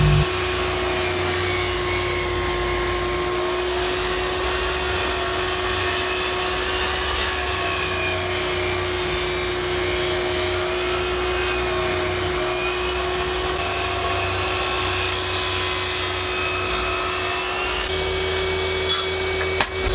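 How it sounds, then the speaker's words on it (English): Table saw ripping a board lengthwise with its blade tilted to 45 degrees, a loud, steady motor whine with cutting noise that runs continuously, close and alone, easing briefly near the end. "I'll start by setting my table saw blade to 45 degrees. Then I'll just rip the board down."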